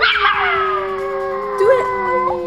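A puppy howls in a long, steady, high wavering tone that bends up and down, close and loud, with a brief yip near the end.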